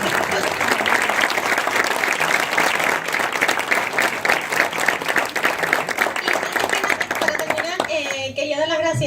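Audience at a criminology talk giving a loud, sustained round of applause, thick continuous clapping that fades near the end as someone begins talking.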